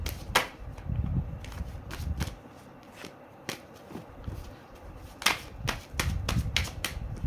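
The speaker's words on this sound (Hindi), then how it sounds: "बट हम फिर भी शफल करेंगे कार्ड्स को" A deck of tarot cards is shuffled by hand in close, quiet bursts of crisp clicking and flapping riffles, separated by soft pauses and light handling taps.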